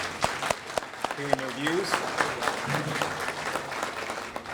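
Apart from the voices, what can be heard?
applause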